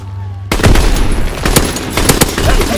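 Gunfire erupts in Call of Duty WW2 multiplayer: after a quiet moment, loud rapid bursts and sharp single shots crack out, mixing into a continuous firefight with close, punchy reports.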